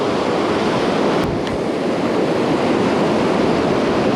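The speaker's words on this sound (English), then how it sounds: "The waves in the back are huge." Large ocean waves breaking at the shore where someone is fishing from the surf, a continuous loud roar of rushing water and wind noise, no talk.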